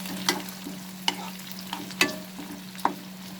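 Onion sautéing in a pan for pepper chicken over a medium flame: a low, quiet sizzle under a steady hum, broken by several sharp scrapes and clicks of a spatula stirring, with no talking.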